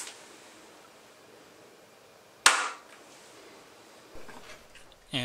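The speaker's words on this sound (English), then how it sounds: "here you can see the device being locked and fired from an overhead view" A Nerf crossbow is locked and then released, giving one sharp, loud snap-like crack in the middle, followed by quieter mechanical clicks and a final knock near the end, over faint background noise.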